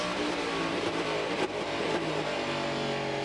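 Race cars at the 2015 Rolex 24 at Daytona endurance race make a continuous, fairly quiet engine roar with no pauses or distinct pass-bys, heard alone without voices.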